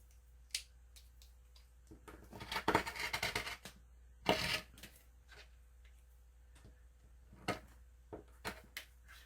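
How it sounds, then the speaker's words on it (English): Scissors cut craft material at close range, giving quiet crisp snips and a short flurry of rapid cutting and rustling, then a few scattered ticks and handling sounds in a quiet room. "I think I'm going to cut first and then glue"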